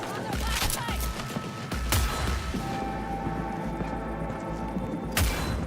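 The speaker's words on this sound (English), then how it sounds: "Oh, she's shooting the robots." Gunfire erupts in a Cyberpunk 2077 firefight, dense bursts with heavy booming impacts and low thuds that swell sharply near 2 and 5 seconds under a steady rumbling game soundscape.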